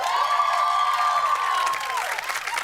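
Studio audience applauding and cheering during a comedy show: a loud, close burst of clapping mixed with whoops and a sustained high yell, swelling and then thinning out over a few seconds.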